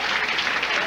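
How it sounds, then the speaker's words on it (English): A crowd at a professional bowling tournament cheers and applauds, loud dense clapping mixed with scattered voices that fills the whole moment. "So the crowd coming alive."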